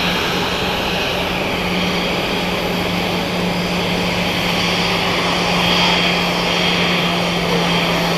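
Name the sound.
Airbus A320-200 taking off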